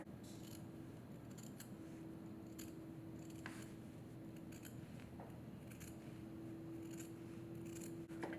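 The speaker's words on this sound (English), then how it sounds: "cut the corners and cut in here, and I'm going to probably cut a little closer" Scissors snip at the fabric corners of a triangle pouch, with a run of quiet close cuts and small metallic clicks, soft and steady with no talking.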